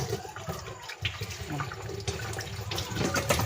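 A rice cake mold being rinsed under a running tap, a steady close rush and splash of water that runs on without a break.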